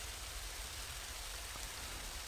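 Steady rain and wind in the video game Sakura Taisen 2, a soft, even hiss of falling rain with a low gusty rumble, faint and unbroken throughout with no voices.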